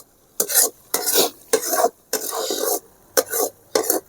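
Moringa leaves and garlic frying in groundnut oil for a thokku, with a spoon repeatedly scraping and stirring the pan in six short rhythmic bursts over a soft sizzle.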